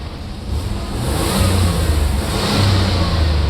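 A 1992 GMC Typhoon's turbocharged engine runs steadily just after starting, loud and close, with a smooth continuous rumble and slight swell and no throttle input or voices.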